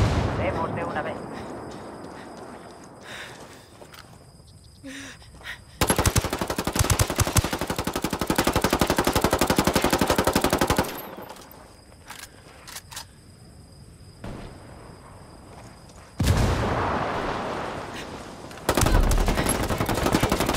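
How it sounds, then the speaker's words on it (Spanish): Rapid automatic gunfire in a first-person video game firefight, two long loud bursts of sustained fire separated by quieter stretches of scattered shots and game noise, with voices speaking over the action. "¡Nos disparan! ¡Nos disparan!"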